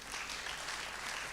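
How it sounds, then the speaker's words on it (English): Audience applause at an event in Kenya, a brief burst of dense, blended clapping heard faintly and without speech. "a big round of applause to our audience"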